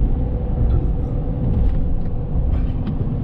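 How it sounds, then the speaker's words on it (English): A Chevrolet Silverado ZR2 pickup with a loose exhaust drones loudly from inside the cab while off-roading, a heavy steady low rumble with faint intermittent rattles over it. "Listen to how loud this is. Yeah, you can hear the rattle too. Something's loose."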